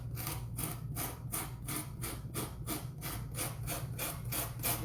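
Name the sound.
sanding block rubbing paper edge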